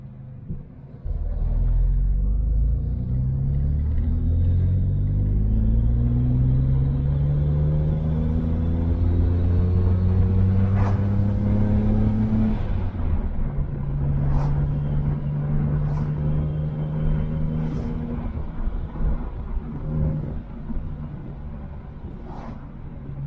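A BMW 335 engine rumbles steadily close by while warming up, its pitch rising with a few revs before settling back to a smooth idle.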